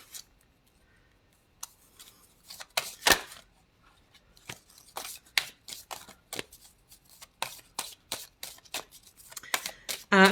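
Oracle cards being shuffled in a series of crisp riffling bursts, some louder and some softer, in an irregular rhythm with short pauses between.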